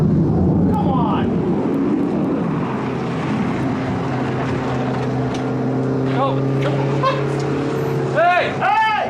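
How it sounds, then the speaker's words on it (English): A car drones past outdoors as a steady engine hum with tonal whine, fairly loud and continuous, while excited voices call out toward the end. "There's a car!"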